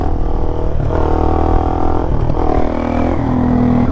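Suzuki DRZ400 motorcycle engine pulling hard through second, third and fourth gears, the revs climbing in rising whines broken by brief dips at each shift, loud and close.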